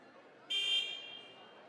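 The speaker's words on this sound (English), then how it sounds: "First buzzer sounds there for the timeout." A sustained electronic timeout buzzer at a girls' high school basketball game blares at about half a second and holds for roughly a second, fading into crowd noise in a large arena.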